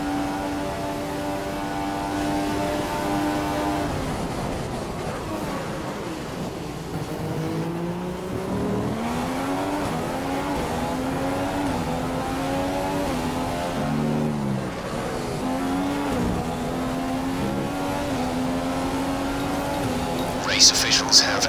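An F1 car in F1 2015 accelerates hard back up to racing speed after a cleared incident, its engine climbing through gear after gear, with shifts and rising whine continuing for about twenty seconds.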